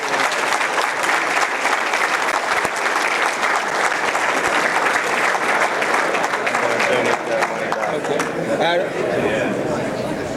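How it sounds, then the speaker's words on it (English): A roomful of people at a men's club law enforcement appreciation breakfast gives a loud, sustained round of applause, dense and steady for about ten seconds, with a little chatter mixed in. "I think he deserves a round of applause."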